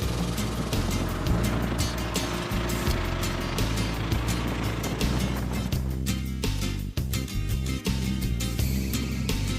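A long-parked Jeep J truck, now running on eight cylinders, drives with a loud, continuous engine roar and heavy rumble heard up close, the tone shifting briefly as it moves along.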